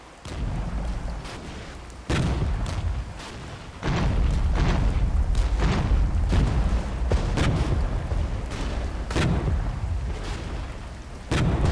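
Abrams tanks firing their main guns in the Regiments video game. Repeated heavy cannon booms land at irregular intervals over a continuous rumble of battle, with several shots close together and others spaced apart.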